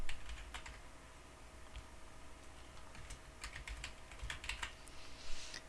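An email address is typed on a computer keyboard: a quiet, irregular patter of key clicks over faint room hum, with no talking.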